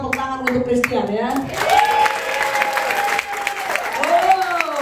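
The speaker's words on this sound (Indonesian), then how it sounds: "Mau nggak buat nggak sama tepuk tangan untuk Christian ya?" An audience bursts into applause for Christian at a small group gathering, with steady clapping mixed with raised voices and whoops running throughout.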